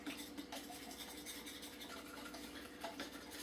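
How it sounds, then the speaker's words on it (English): Ingredients being whisked in a bowl: a quiet, quick, rhythmic scraping and stirring close by, with no talk. "Now we just gotta whisk it."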